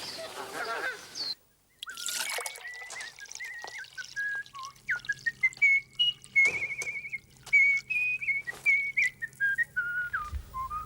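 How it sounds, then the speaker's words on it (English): A person whistles a lilting, wavering tune in short phrases, fairly close, with a few thumps and rustles around it. "That's a nice whistle."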